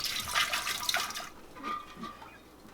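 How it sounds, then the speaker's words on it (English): White vinegar is splashed into an emptied jun or kombucha brewing vessel to sterilize it. A loud, close splash lasts about a second, then fades to quieter sloshing and dripping. "Now I'm gonna splash a little bit of white vinegar in it just to really sterilize everything."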